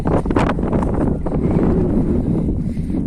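Strong wind buffeting the microphone on a hilltop viewpoint near Chikkamagaluru, a loud, continuous low rumbling roar with gusty swells and no clear voices.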